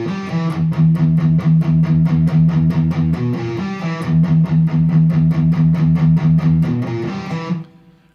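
Distorted electric guitar plays the next section of Metallica's "Seek and Destroy", a driving run of rapid repeated chugging strikes played twice, loud and up close, then ringing out and fading.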